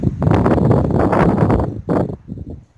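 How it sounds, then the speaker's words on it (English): Wind gusts steadily across the microphone outdoors at sunset, a continuous rough rushing that briefly drops and surges again before fading. "how come the wind is blowing towards me"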